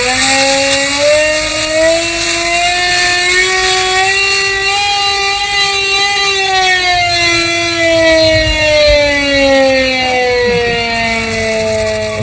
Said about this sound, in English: Here is an air raid siren.